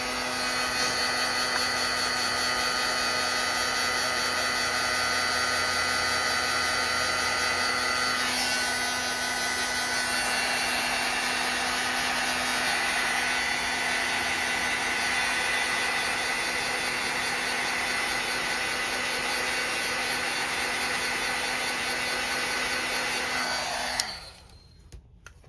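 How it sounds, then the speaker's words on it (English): A hair dryer blows steadily over a watercolor painting, a loud, constant whirring roar that holds unbroken for most of the stretch before cutting off abruptly near the end. "I'm gonna dry it again."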